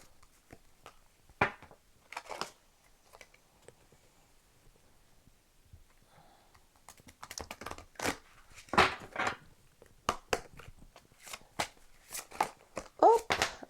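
Tarot cards being shuffled and drawn, a run of soft papery riffles and flicks in bursts, with a voice talking between and over them.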